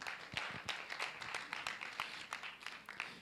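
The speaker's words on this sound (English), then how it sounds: "A very big round of applause." Faint, distant applause at a launch event at the Parliament of Uganda, a crowd clapping in uneven bursts, fairly quiet and without talk over it.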